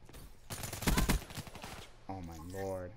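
Call of Duty free-for-all gunfire bursts in rapid automatic fire for about a second, close and loud, with a player talking over the shooting.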